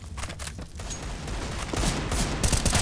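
Gunfire from a Counter-Strike: Global Offensive esports playoff match, a steady dense spatter of shots and bursts with thumps and clatter throughout, growing busier and louder toward the end, with no talk.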